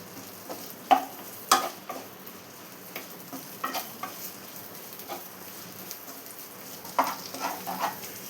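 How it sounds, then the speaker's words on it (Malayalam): Chicken mappas with green chillies and sliced tomato is stirred in a pan, giving quiet, scattered scrapes and clicks of the spoon over a soft, low sizzle, with no talking. "ഇതെല്ലാം കൂടെ ഒന്ന് മിക്സ് ചെയ്തെടുക്കാം"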